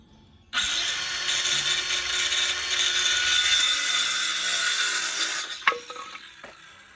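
A power tool cuts a 20.5-inch piece of pallet wood for an Adirondack chair leg. It starts abruptly with a loud, steady, high whine that holds for about five seconds, then winds down with a clatter, close up and without speech.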